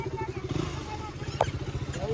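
A motorcycle engine runs just after being started, its pulsing idle thrumming steadily close by while people talk over it.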